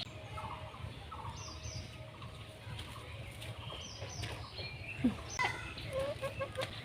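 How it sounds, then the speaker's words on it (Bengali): A hen settles down to lay eggs in a village coop, giving faint, scattered clucks over a low, steady rural background with a few other birds. "ওইদিকে ডিম পাড়তে বসেছে মুরগি।"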